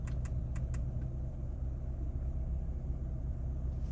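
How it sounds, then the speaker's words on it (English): A car engine idles inside the cabin while stopped, a steady low rumble filling the background with a few faint clicks at the start and no talking. "I just feel like there's a tad bit more engine noise in the cabin"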